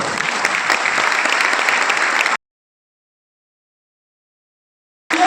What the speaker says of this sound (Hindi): मैं इस पर तालियां बनती है।